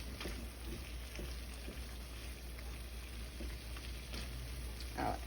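Onions fry with salmon in a frying pan, giving a quiet, steady sizzling hiss with a few soft pops and clicks. The sound is faint and continuous, with no voices.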